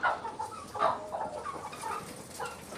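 A flock of Brahma, Jersey Giant and Adler hens clucks and murmurs nearby on a farm, irregular soft calls overlapping continuously with no talk.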